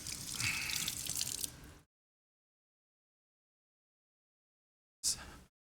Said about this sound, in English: Wash my hands again.